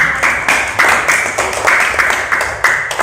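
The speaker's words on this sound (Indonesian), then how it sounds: "Tepuk tangan ya untuk semua." Students in a classroom clapping, a series of rhythmic loud group claps in short regular bursts, close and fairly bright.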